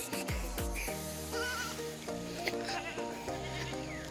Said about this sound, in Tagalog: Ang dami kambing.